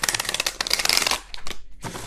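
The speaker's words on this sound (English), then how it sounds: "I find it really hard to shuffle this deck completely, so I have to like split it up" A deck of tarot-style cards is shuffled by hand in split portions, giving a dense, close riffling flutter that stops briefly and then resumes, with no voices.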